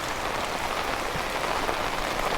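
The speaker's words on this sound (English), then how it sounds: "As you can see, it has started to rain" Rain falls steadily on a car parked in the open, making a dense, even hiss of drops with no pauses.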